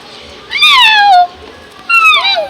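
A person imitates a cat, giving two drawn-out, rising-and-falling meows close up with a short pause between.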